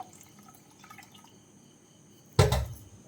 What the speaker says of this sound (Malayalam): ഞാൻ ആ കുക്കറിൽ തന്നെ കുറച്ച് വെള്ളം എടുത്തിട്ട് ഇതിലേക്കിട്ട് ചേർക്കുവാണ്.